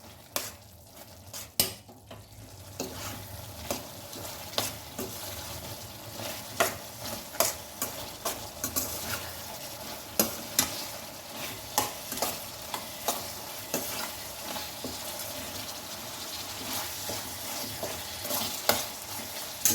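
Spicy chicken liver with masala stirred in a pan, a steady sizzle of frying running throughout, with frequent sharp scrapes and clicks of the spoon against the pan, close and without talk.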